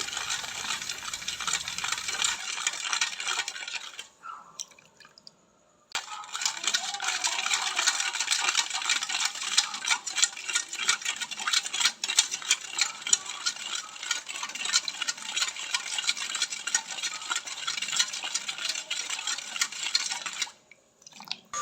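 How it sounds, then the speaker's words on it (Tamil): Sugar stirred into a mixture for a Sri Lankan Tamil rasavalli kizhangu (purple yam) porridge, a steady close scraping and clinking of a spoon in a pot that runs continuously, pausing briefly twice, with no talk. "போட்டுட்டு நாங்கள் நல்லபடியாக மிக்ஸ் பண்ணி விட வேணும், நல்லா கரைகிற மாதிரி"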